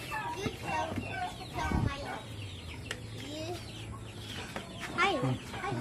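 Chickens cluck and squawk around a farmyard at feeding time, overlapping bursts near and far, with people talking over them.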